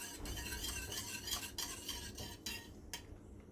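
A spoon scrapes continuously through a thickening pomegranate sweet mixture in a pan, with quiet rhythmic strokes and faint clinks over a soft background sizzle, no voices.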